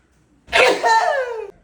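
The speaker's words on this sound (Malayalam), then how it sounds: "തുമ്മടാ തുമ്മ നീ കൊറേ കൂടെ തുമ്മ" A person lets out a single loud, close sneeze lasting about a second, with a short breathy intake before it and quiet on either side.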